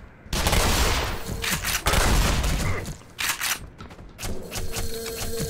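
Shotgun blasts and chaotic combat noise in the video game Black Mesa, a Half-Life remake: loud, dense bursts of gunfire and impacts filling the clip with only brief gaps.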